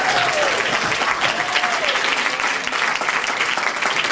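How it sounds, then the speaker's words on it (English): Big round of applause from an audience for children standing in front of a stage, a steady dense clapping wash holding loud and even throughout. "I think we need another big round of applause."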